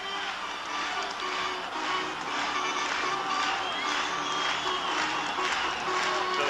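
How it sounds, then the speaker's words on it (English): Crowd at Yankee Stadium during a 1980 ALCS playoff game against the Royals, a sustained roar of cheering and applause from thousands of fans, steady and loud throughout with no break. "So the crowd having come to life in the sixth inning"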